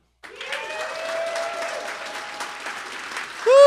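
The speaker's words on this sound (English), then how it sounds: "so let's clap it up" An audience breaks into steady applause, dense clapping that starts abruptly and holds evenly for several seconds, with a loud tone and a voice rising at the end.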